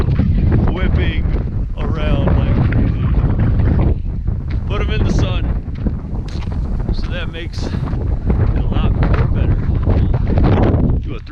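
Strong gusty wind buffets the microphone high in the Wind River Range mountains, roaring loud and close through the whole stretch while someone talks over it.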